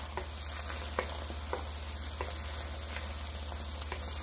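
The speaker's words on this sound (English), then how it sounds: "Just scramble them right in the pan." Beaten eggs sizzle steadily in a hot frying pan while being scrambled, with faint scraping and stirring taps from the utensil over the constant frying hiss.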